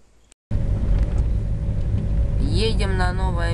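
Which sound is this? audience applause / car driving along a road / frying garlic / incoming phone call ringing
car driving along a road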